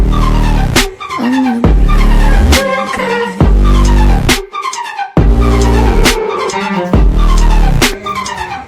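A Skoda Octavia with a 2.0 TDI turbo diesel engine drives hard. Loud, repeated engine surges and rising tire squeals come in quick bursts, close and unbroken, with no talking.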